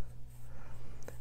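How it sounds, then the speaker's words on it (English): Soft scratchy strokes of a light pencil outlining a car drawing on paper, quiet and close, with a low steady hum underneath. "I'm going to go ahead and outline, and actually use one of my lighter pencils here"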